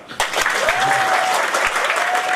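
An audience bursts into dense, sustained applause that holds steady throughout, with a brief whistle-like tone riding over the clapping.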